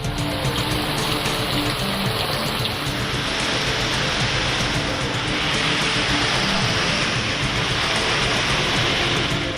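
Heavy rain pours down in Chennai in a dense, steady roar of drops hitting surfaces, loud and close throughout with no speech.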